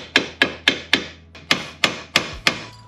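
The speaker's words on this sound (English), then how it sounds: "banging on this with the hammer should release it from the bottom" Eight sharp metallic hammer blows ring out in a steady rhythm on the front suspension of a 2004 Subaru Impreza WRX during a wheel bearing replacement, close and distinct with no talking.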